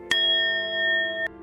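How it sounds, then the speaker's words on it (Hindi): Temple bell rung twice, a sharp metallic strike followed by a long, clear ringing tone that sustains, then a second strike near the end, close and alone against silence. "मंदिर की घंटी बज उठी।"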